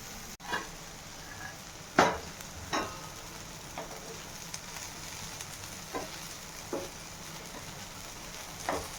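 Tomatoes frying on a griddle for chutney, a low steady sizzle broken by several sharp, separate clacks of tongs or a spatula on the hot surface.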